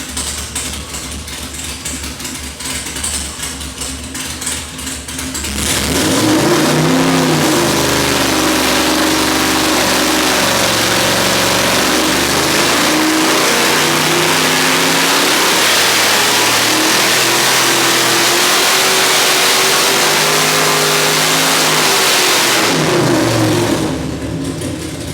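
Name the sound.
540 cubic inch big block Chevy engine revving on a dyno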